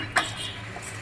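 Boondi laddu mixture stirred in a pan, a single brief clink of a utensil against the pan followed by soft scraping.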